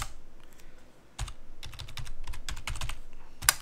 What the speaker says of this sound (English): So just type in sudo bash,